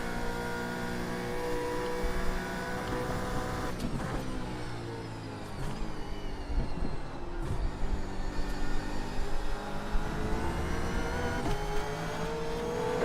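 Race car engines roar past on the track during a race, a continuous loud drone with rising and falling revs and several distinct pass-bys from cars close by.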